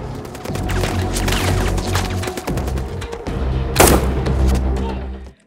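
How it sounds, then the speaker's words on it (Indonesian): A movie shootout scene from the action film Shooter, with dense overlapping gunfire, heavy impacts and rumbling booms layered with score, loud and continuous, rising to a sharp blast near the end before cutting off. "Sementara yang berhasil menghindar lanjut adu tembak dengan O'Brien dan Bob Lee."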